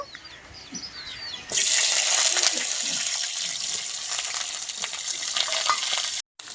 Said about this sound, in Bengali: এবার আলু আর সিম ভেজে নেব